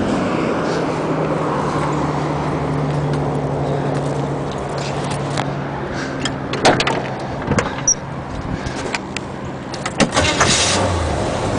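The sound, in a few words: motorhome engine starting and idling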